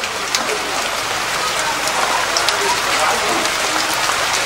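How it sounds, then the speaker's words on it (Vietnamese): Steady rain pours down outdoors at a rural countryside home in southern Vietnam, a dense, even hiss of drops on surfaces that continues throughout. "mưa nữa."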